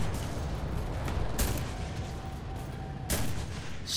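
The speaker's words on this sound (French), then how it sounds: "j'ai quand même oublié que je pouvais utiliser aussi mon artillerie de temps en temps" Artillery strikes land in the video game Enlisted: two heavy, sharp blasts about two seconds apart stand out over a continuous rumbling battle background.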